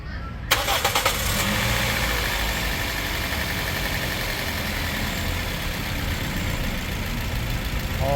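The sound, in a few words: Toyota 2NZ-FE car engine starting and idling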